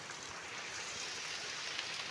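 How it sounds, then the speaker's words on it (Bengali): Heavy rain pours down as a dense, even hiss of falling water, moderately faint and continuous with no voices. "এতই জোরে বৃষ্টি, সে ভিজে যাবে, ভিতরে জামা সব ভিজে যাবে"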